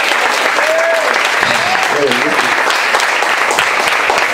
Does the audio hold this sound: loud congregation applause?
yes